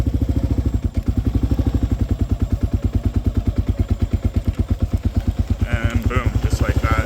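A Kawasaki KLR650 dual-sport motorcycle's single-cylinder engine runs close by with a steady, rapid thumping pulse, loud and even as the bike begins to move off, with a brief higher whine near the end.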